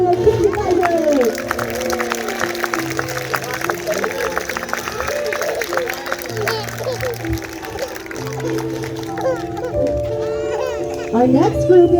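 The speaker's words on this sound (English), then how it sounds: "let's get a big round of applause for those King's Advisors." An audience applauds a children's theater group on opening night, clapping mixed with excited children's voices and cheering throughout.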